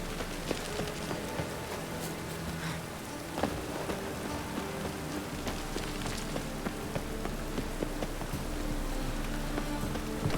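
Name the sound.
rain falling in The Witcher 3 video game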